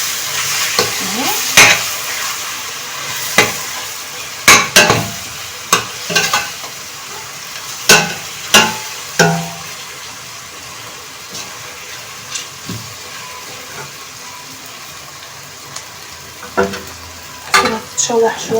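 Meat sautéing in ghee and spices in a pot gives a steady sizzle, broken by repeated sharp clinks and scrapes of stirring against the pot, close and fairly loud.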